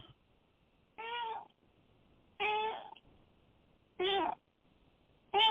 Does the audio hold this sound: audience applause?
no